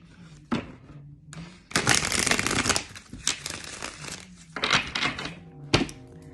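Tarot cards are shuffled by hand in repeated bursts of riffling, flapping and soft tapping, loud and close, with short pauses and a faint low hum between bursts.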